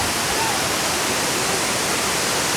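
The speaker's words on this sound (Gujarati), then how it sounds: "ફાઇનલી મિત્રો આ ધોધ છે જો।" Koshmal waterfall, also called Bhigu waterfall, in Dang pours with a loud, continuous broadband roar of rushing water. The steady rumble fills the whole clip with no voices.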